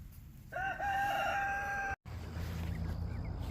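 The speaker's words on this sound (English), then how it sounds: "and then we met the chickens" A rooster on a farm crows once, loud and close, a drawn-out call of about a second and a half over steady outdoor background noise, followed by a brief gap and more ambient farmyard sound.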